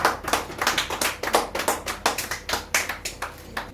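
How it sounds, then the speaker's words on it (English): Audience hands clapping at an award ceremony in Lagos, a steady run of sharp, fairly quick claps at moderate distance with no talk over them. "Clap for her."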